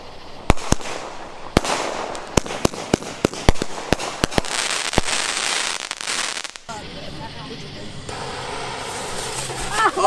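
Fireworks being set off: a rapid run of sharp, loud bangs and crackles, then denser crackling and fizzing in the last few seconds, with voices talking over the blasts.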